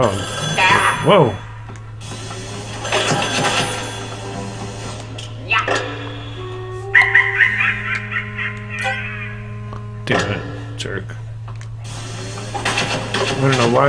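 In Luigi's Mansion 3, a telephone rings in repeated bursts amid game music and effects, with a steady hum underneath and a person talking over it.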